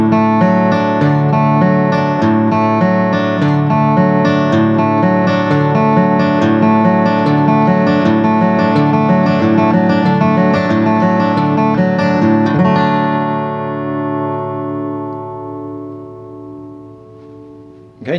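An acoustic guitar plays a bluegrass crosspicking pattern with even, rolling picked notes, close and bright, before a final chord rings out and decays, with no voices.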